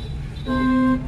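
Car horn honking once during a driving lesson, a steady half-second toot close by over low engine and road rumble.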